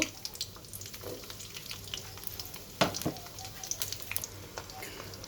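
Chopped garlic frying in mustard oil for pickle-making, a steady close sizzle with scattered crackles and a stir scrape midway, under quiet background noise.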